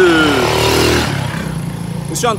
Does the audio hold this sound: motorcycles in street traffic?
yes